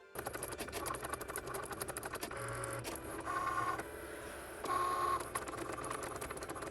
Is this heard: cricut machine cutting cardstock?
yes